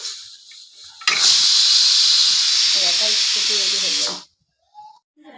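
A pressure cooker boiling chicken lets out a loud, sustained steam hiss that starts abruptly, holds steady for about three seconds and cuts off sharply, with faint talk and household noise before and after.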